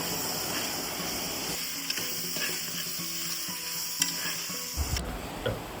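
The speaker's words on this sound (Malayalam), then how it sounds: "മല്ലിപ്പൊടി നല്ലപോലെ വറുത്തെടുക്കേണ്ടതാണ്." Coriander powder roasting with sautéed tomato and onion in a pan for beef varattiyathu, a steady close sizzle with scraping stir strokes and a few sharper clinks near the end, no speech.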